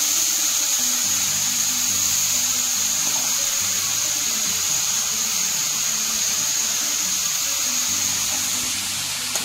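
Water pours steadily into a vegetable poha curry cooking in a pan, a continuous even wash of liquid with a low hum beneath it, unbroken for the whole stretch.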